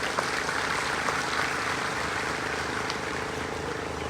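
A crowd at a Kshatriya community gathering in Bharuch applauds, a steady diffuse wash of clapping heard from a distance without distinct individual claps.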